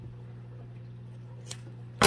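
Scissors snipping off overhanging fabric on a bling sofa bench, a faint single snip then a sharper cut at the end over a low steady hum.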